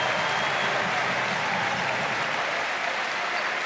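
Arena crowd at a Eurobasket game, Finland versus Poland, breaks into sustained applause after a play, a dense, steady wash of clapping and cheering throughout with no clear voices on top.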